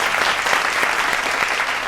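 Dense, loud audience applause at a televised Hindi poetry gathering, steady and continuous throughout with no talking over it.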